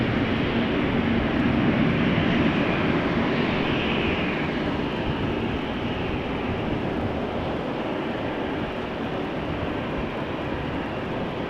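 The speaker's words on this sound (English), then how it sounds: "I'm not forgetting the Dreamliner lined up right now, but the GE90s always sound so nice." Jet airliner engines, including GE90 turbofans, roar steadily at Amsterdam Schiphol Airport in the rain, a constant distant rumble with rain-like hiss and no speech.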